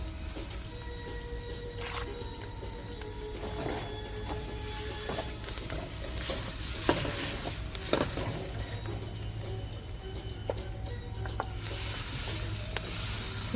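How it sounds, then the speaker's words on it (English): Shrimp frying over high heat on a chulha fireside in a garden, with a continuous loud sizzle and repeated scraping stir strokes throughout, no talking. "Cooking up the shrimp really quickly"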